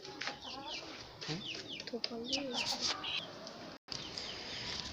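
Several chickens cluck and chatter in a village coop, their calls overlapping in quick bursts at close range, with a short break near the end.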